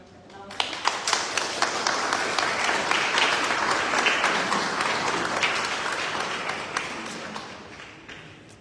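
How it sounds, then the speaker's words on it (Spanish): Audience applause at a book fair event at a university library in Lima, Peru: sustained clapping from a crowd that swells and holds for several seconds with distinct sharp claps on top, then tapers off. "Por favor, recibamos con un fuerte aplauso."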